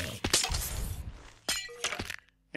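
Glass blocks breaking in Minecraft, several short crisp shattering bursts in quick succession with brief gaps between them, close and moderately loud.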